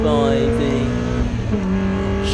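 A race car in a 750 Motor Club Roadsports race at Snetterton roars past close by, engine loud and steady with a rising then falling pitch as it goes by, a commentator's voice faintly under the noise.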